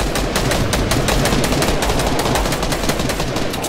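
Dense gunfire from a Fortnite match rattles on continuously, with rapid overlapping shots at a loud, steady level throughout.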